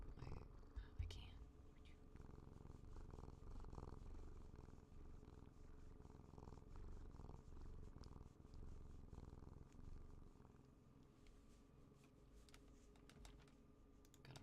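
A cat purring loudly and continuously up close, a steady low rumble running through the whole stretch with faint clicks and rustles around it.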